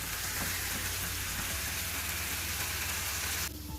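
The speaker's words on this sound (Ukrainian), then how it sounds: "І разом з цибулькою на петельні трішечки протушую і піджарюю морковочку" Grated carrots and onion fry in a pan with a dense, even sizzle that holds steady for a few seconds, then drops off abruptly near the end.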